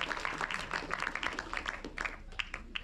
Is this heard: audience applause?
yes